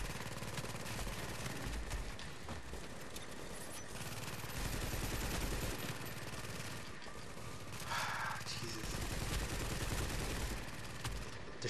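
Rapid bursts of automatic gunfire and explosions from a firefight in the video game The Division's Dark Zone, crackling continuously at low volume with a player's voice occasionally audible beneath.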